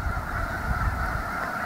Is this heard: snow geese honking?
yes